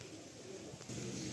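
A male pigeon coos softly in a loft, low murmuring calls that are faint and distant, running steadily through the whole stretch.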